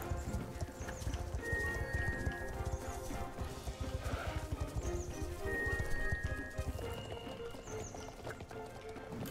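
Horse hooves clip-clop steadily in the video game Star Stable, a continuous trotting beat with occasional whinnies over game music.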